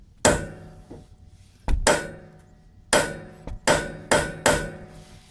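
A hammer strikes a steel center punch to dimple a broken bolt on a John Deere front end loader, giving about seven sharp metallic blows up close, spaced irregularly with several in quick succession near the end.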